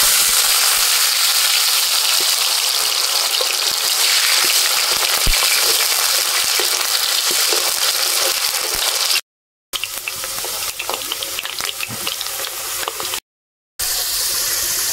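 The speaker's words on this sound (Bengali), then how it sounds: "এবারে আমি পাপড়ের কালিয়ার জন্য আগে থেকেই ডুমো করে রাখা আলু ভেজে নেব।" Diced potatoes fry in oil in a pan, a loud continuous close sizzle with faint stirring scrapes, broken by two brief silent cuts before the frying resumes.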